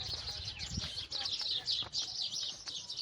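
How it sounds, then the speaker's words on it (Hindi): Many small birds chirp and twitter continuously in Bhimber, Azad Kashmir, a busy high-pitched chorus with faint rustling and a soft thump underneath. "ये चिड़ियों की आवाज़"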